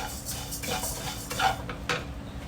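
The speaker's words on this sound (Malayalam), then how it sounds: "ഈ മല്ലി ഇതുപോലെ തന്നെ നന്നായിട്ട് ചൂടായിട്ട് വരട്ടെ" Coriander seeds dry roasting in a pan for sambar powder, a spoon scraping and stirring them with soft rattles and light metallic taps over a faint sizzle, close and continuous.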